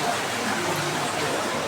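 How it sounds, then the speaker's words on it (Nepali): Water trickling and splashing down from a rock at a quiet meditation spot, a steady broadband rush that holds close and even throughout, with no voices. "यहाँबाट यसरी पानी झरिरहेको छ"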